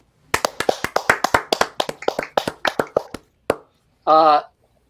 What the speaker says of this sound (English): let's give a round of applause for Anti-Vaxxer, played by Ben Malote